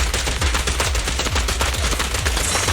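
Rapid bursts of gunfire in Zenless Zone Zero, loud dense repeated shots at a fast machine-gun rhythm over the whole stretch, with no talking.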